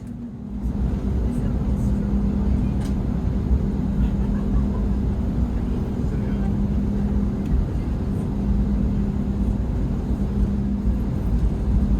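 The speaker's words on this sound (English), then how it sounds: "We're about to start our taxi out towards runway 7 left for an eastbound departure today." Inside the cabin of an American Airlines Airbus A321neo taxiing out toward the runway, a steady low engine drone and rumble runs throughout with faint intermittent clicks and rattles.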